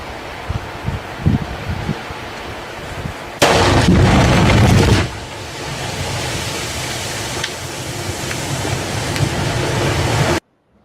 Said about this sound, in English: Now take a look at what ground-originated lightning can do to water.